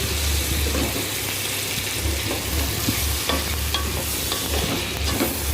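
Tomatoes and green chillies sautéing in a hot pan for spicy prawn semiya, a steady close sizzle with scraping stir strokes running through without pause, no voices.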